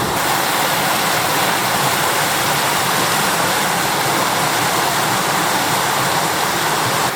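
Rushing water of a waterfall on the Russian River in Alaska, a dense, steady roar filling the whole clip, close and loud with no other sounds.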